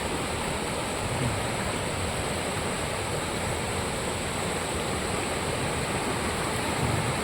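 Steady, broadband rushing of Mok Fa Waterfall in Doi Suthep-Pui National Park, Chiang Mai, in rainy season, fills the whole stretch, constant and even with no pauses.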